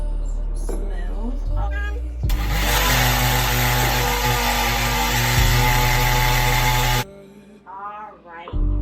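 An electric mixer whirs steadily as it blends a homemade chocolate ice cream mixture until smooth, a loud continuous motor drone running for several seconds, with brief talk before and after.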